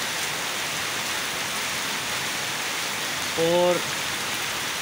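Steady rain falling at night in Murree, a dense even hiss throughout, with a brief spoken word from a man near the end.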